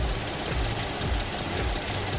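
A 2,400cc four-cylinder luxury car engine idling with 19,000 km on it, heard as a steady low rumble with a dense even texture, close and constant throughout.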